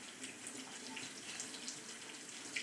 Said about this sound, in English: So you're going to want to rinse it under cold running water for 30 to 60 seconds.